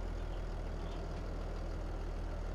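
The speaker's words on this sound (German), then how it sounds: "Dann fahre ich jetzt gleich den Mähdrescher wieder weg. Den Motor lasse ich jetzt erstmal laufen." In Farming Simulator 22, a combine harvester engine idles with a low, steady, even drone that stays constant and moderately quiet, with no voices.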